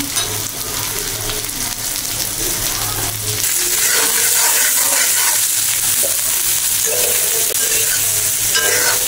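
Onions frying in a pan while being stirred for a Bengali broiler chicken bhuna, a steady loud sizzle with scraping strokes running throughout, no voices.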